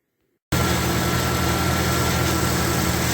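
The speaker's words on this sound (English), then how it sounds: "We'll take this thing outside and hook it up to an engine and see if it works." A car engine runs steadily, loud and close, with a constant idling drone and mechanical vibration after a brief silent start, with no speech.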